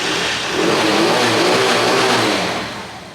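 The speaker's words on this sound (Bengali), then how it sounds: "সেলফে সেলফে টোকা টোকা স্টার্ট হবে" A motorcycle engine self-starts and runs, a close, steady mid-pitched hum that swells briefly then eases off as it settles.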